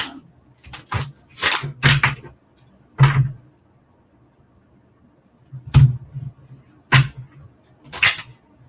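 Tarot cards are shuffled by hand in short bursts, crisp riffling flutters separated by pauses and a few sharp taps, close and clear with no voices.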